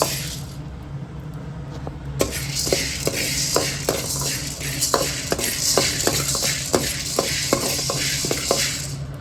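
About 150 grams of black pepper dry-roasting in a pan for homemade sambar powder, stirred with a steady rhythm of scraping strokes over a dry crackle, close and with no voices.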